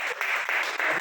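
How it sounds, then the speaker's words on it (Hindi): Audience at a Hindi poetry gathering breaking into hearty applause, a dense wash of clapping with brief dips between bursts, heard alone. "एक बार जोरदार ताली होगी।"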